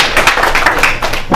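Brief burst of audience applause at a Spanish-language church teaching session, dense clapping from a crowd, steady and fairly loud throughout.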